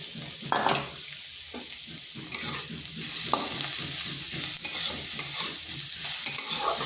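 Potatoes fry lightly in oil in a pan with onions and cumin for a Bengali semolina dish, a continuous close sizzle broken by regular spatula stirs and scrapes.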